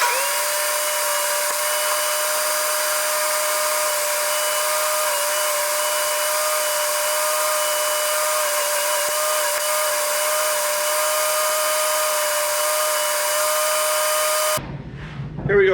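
A power tool cuts small pieces for a fireside lounge chair. It gives a loud, steady, high whine that holds unbroken for about fourteen seconds, then cuts off abruptly.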